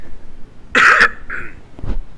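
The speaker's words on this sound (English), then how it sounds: "there will be periodic coughs and splutters throughout this" A commentator coughs and clears his throat during a Supreme Commander match cast: one loud, harsh cough burst close to the microphone, then a shorter throat-clearing rasp and a low final splutter.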